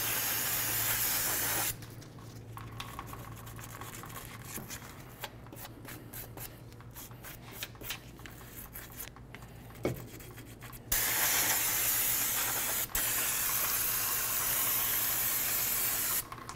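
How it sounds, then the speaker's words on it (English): Cleaner sprayed onto the wheel hub area of a 2015–20 GMC Yukon during a hub and bearing replacement, heard as a steady close hiss that stops midway, leaving rapid rubbing and clicking, then the loud hiss resumes. "We're going to spray down this area, get out any of the debris that's in there."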